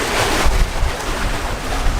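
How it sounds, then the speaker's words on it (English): Water washing against a scenic shoreline during an ATV outing, a loud, continuous rush of surf mixed with heavy wind buffeting the microphone, with no voices over it. "I just like hearing the water"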